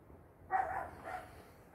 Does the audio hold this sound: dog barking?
yes